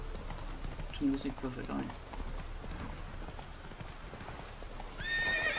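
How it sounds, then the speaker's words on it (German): Roach the horse galloping through a forest in The Witcher 3, rhythmic hoofbeats under someone speaking, with a brief whinny and game sounds toward the end. "Warum müssen wir eigentlich neuerdings immer durch den Wald reiten?"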